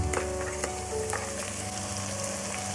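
Ground masala paste hits browned onions in a pan for mutton curry, giving a continuous close frying sizzle with occasional light clicks of stirring.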